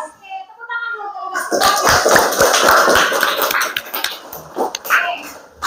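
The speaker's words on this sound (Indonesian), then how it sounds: "Oke, tepuk tangan dulu." A room of students breaks into brisk clapping after a teacher's call during a morning class, lasting a few seconds over and around spoken voices.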